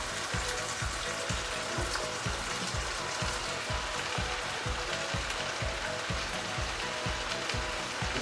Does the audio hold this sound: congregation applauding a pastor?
no